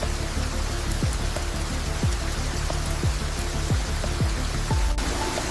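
Heavy rain falls during a night rainstorm among quartzite channels, a steady close hiss with distinct drops hitting nearby at irregular intervals and no voices.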